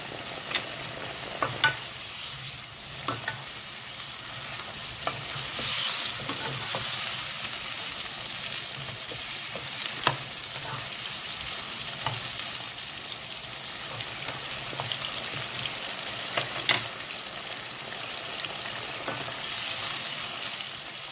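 Ingredients, including salted peppers, sizzle and fry in a pan while being stirred until soft, a steady close crackle with occasional scraping clicks from the utensil throughout.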